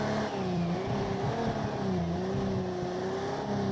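A Ferrari race car engine in the video game Project Cars 2 drones steadily at high revs, shifting pitch slightly as it runs, loud and continuous with no voices.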